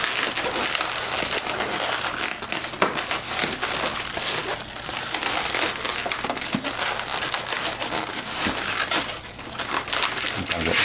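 A latex 160 balloon squeaks and crinkles continuously as it is pulled through a series of fold twists, producing dense rubbery rubbing close up with no pauses.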